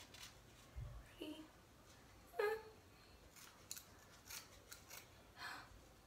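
Scissors snip through a section of hair during a home haircut, a few short crisp cuts close to the microphone with quiet rustling between them.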